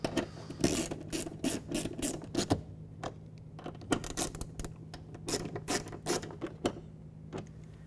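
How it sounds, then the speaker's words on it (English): A ratchet tightens the two 10mm bolts on the front door window regulator of a 2007–2012 Nissan Altima. The rapid clicking comes in close bursts of several seconds with short pauses between them, and nobody talks. "now we're going to reinstall these 2 Phillips head or 10mm bolts"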